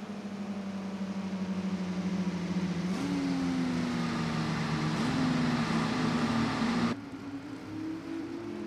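Race cars in a heat race at Sonoma Raceway sweep through the esses, a steady engine drone rising and falling in pitch as cars pass, continuous and moderately distant, with no talk over it.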